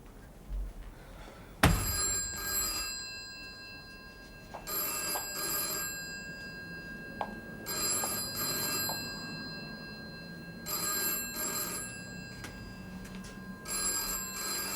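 An old-style telephone bell rings in a British political drama, in four or five evenly spaced double rings with pauses between them, clear and fairly close, after a sharp knock near the start.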